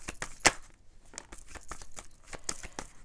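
Tarot cards being shuffled by hand, giving irregular papery crinkles, flicks and snaps with one sharper slap early on, fairly close and moderately quiet.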